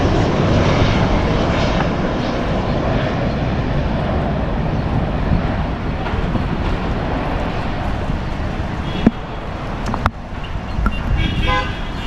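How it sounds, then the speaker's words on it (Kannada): A SpiceJet airliner comes in to land at Bengaluru airport, its engines roaring loudly and steadily. Car horns toot nearby, and a couple of sharp knocks stand out near the end. "ಇವಾಗ ಲ್ಯಾಂಡ್ ಆಗ್ತದೆ ಇದು."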